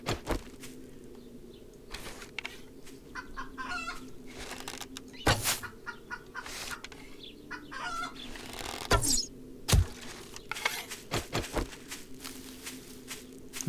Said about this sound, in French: Oh, il y a une poule.